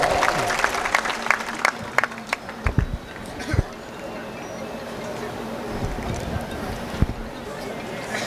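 At a political rally in the Naigaon constituency, the crowd applauds to welcome Amit Deshmukh, and the clapping comes with scattered sharp claps and crowd noise under an amplified voice speaking over it.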